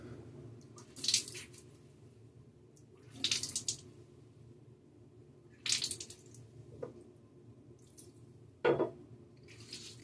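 A shaving brush is rinsed under a running tap. Faint, steady water flow runs underneath, broken by four or five brief, sharper splashing and squishing bursts at irregular intervals.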